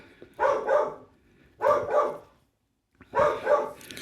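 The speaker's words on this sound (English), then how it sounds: "Let me wait while the dog barks." A dog barks in three separate bursts, each a quick double bark, loud and close with short silences between them and no talking.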